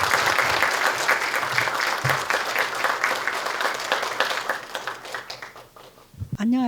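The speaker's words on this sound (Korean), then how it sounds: "최연애 사장님을 큰 박수로 맞이해 주시길 바랍니다" Audience at an energy forum in Korea applauds to welcome the president of the Korea Gas Corporation, a loud, even burst of many hands clapping that thins and fades near the end before a brief voice or mic sound.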